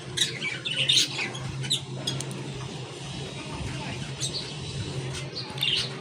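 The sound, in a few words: budgerigars chirping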